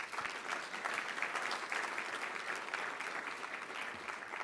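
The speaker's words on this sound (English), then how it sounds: "Please give them a round of applause." Audience applause at the close of a cloud-enabled transformation panel, a steady, even wash of clapping lasting several seconds, moderately distant with no talk over it.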